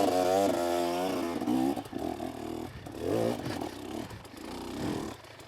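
A dirt bike engine revs hard on a steep enduro hill climb, loud and close, the pitch rising and dropping as the throttle surges and sags, with scraping and clatter from the terrain.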